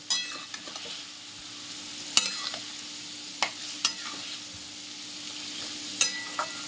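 Shrimp frying with bottle gourd greens in a pan, a soft steady sizzle broken by occasional sharp clinks and scrapes of stirring, close and without talk.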